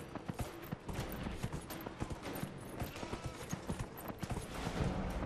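A horse gallops in the video game Dragon Age Inquisition, its hooves beating a fast, steady clip-clop rhythm that sounds close and clear, with no talk.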